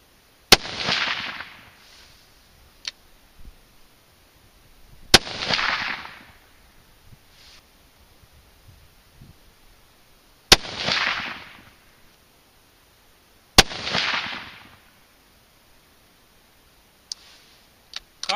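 Four sharp .243 rifle shots with handloaded Sierra 95 grain TMK bullets over IMR4831 powder at an outdoor range, each a loud crack followed by a short rolling echo, spaced several seconds apart.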